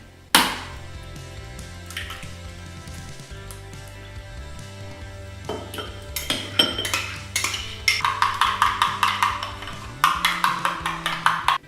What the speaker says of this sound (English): So I'm going to take my 2 eggs and crack them into my sour cream.